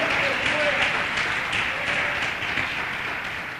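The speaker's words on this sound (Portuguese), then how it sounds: "dê uma salva de palmas a Cristo" A church congregation applauds during a sermon, a dense, sustained wash of clapping that fades slightly toward the end, with voices heard over it.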